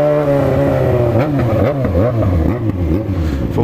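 A motorcycle engine revs loudly and close by while riding, its pitch rising and falling in repeated surges with a rough, throaty drone.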